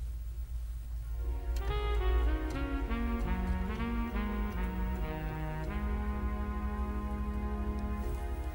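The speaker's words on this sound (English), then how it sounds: "So for example, I can play a breathy saxophone." A breathy saxophone preset on a Lowrey Stardust SU530 organ plays a slow, connected melody of single sustained notes over a steady low hum.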